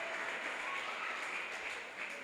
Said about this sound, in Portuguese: Aplauda o Senhor de novo.